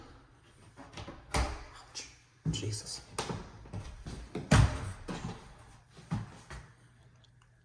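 A door in a house being toured is handled, opening and closing with several clunks and rattles spread across a few seconds, and a person briefly speaks.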